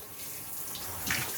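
Shower water pours steadily while a big dog is being washed, a brief, close, hissing spray with a slight splash near the end.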